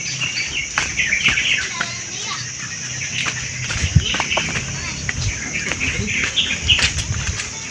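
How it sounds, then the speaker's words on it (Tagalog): Birds calling in a quiet rural spot with no houses nearby, repeated short chirps and tweets near and far, with wing flutters, footsteps in mud and occasional voices underneath. "Boses ng ibon. Oo. Maririnig ko."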